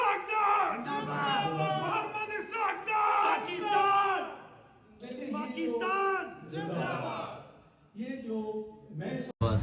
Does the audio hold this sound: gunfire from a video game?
no